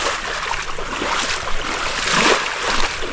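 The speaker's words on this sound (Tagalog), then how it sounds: "papatayin muna natin makina" Steady broadband rumble of an engine running, likely a small irrigation pump motor, loud and close with a constant wash and no talk.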